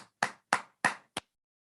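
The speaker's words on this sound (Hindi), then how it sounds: "सर लोगों के लिए जोरदार तालियां होनी चाहिए।" An audience at a motivational talk gives a few sharp claps, four or five distinct slaps spaced about a third of a second apart, close and fairly quiet, then silence.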